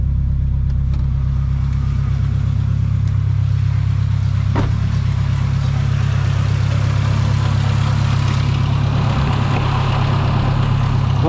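A turbocharged K20 engine in an EF sedan idles steadily up close, a loud, even low rumble that holds constant throughout.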